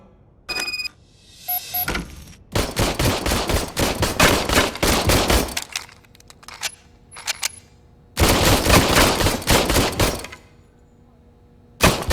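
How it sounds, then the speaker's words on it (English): Old service gun fired in Robocop: Rogue City, loud sharp bursts of rapid gunfire in several volleys separated by brief pauses, with a few ringing electronic tones between them. "I was issued this old gun and serviced it according to the manual. I will try it out."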